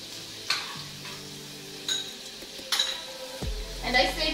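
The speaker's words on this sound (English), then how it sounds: "You have to nicely melt the butter and put our onion." Butter melting with onion frying in a hot sufuria, heard as soft sizzling with a few light clinks and stirring scrapes of a utensil against the pot, close and moderately quiet with no talking.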